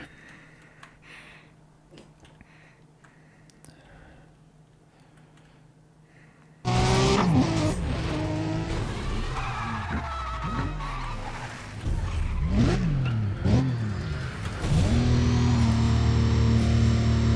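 A car launches off the start of a sprint race in the video game Need for Speed: Undercover. After a quiet stretch, a loud engine roar bursts in, revving hard and rising through gear changes with tire noise layered in.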